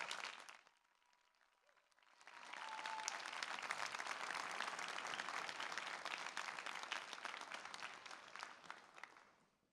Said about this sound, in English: I'd like to ask the class for a huge round of applause for the audience